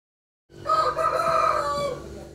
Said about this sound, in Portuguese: galinhas viraram colegas de trabalho de funcionários de uma madeireira da cidade.